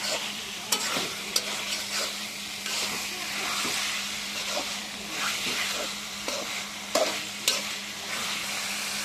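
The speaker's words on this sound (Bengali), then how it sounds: "এভাবে কিছুক্ষণ কষাতে থাকবো। যত কষানো যাবে ততই ভালো লাগবে।" Meat with potatoes stir-fried in a pan for a Bengali curry, a steady sizzle and hiss under repeated scraping, stirring clatters of a spoon against the pan.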